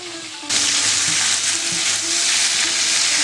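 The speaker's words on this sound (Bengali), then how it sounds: "এখানে আমি মাছের এই কাটাগুলো ভাজার জন্য" Fish bones drop into hot mustard oil in a wok, bursting into a loud, continuous crackling sizzle that holds steady, with occasional faint knocks of a utensil underneath.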